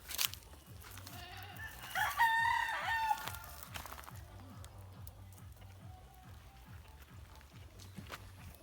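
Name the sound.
Rhode Island chickens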